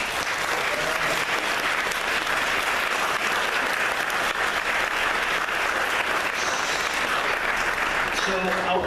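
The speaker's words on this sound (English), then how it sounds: "Let's give these guys a round of applause, please." A large audience claps steadily at an awards kickoff event, a continuous loud wash of applause with some murmured voices underneath.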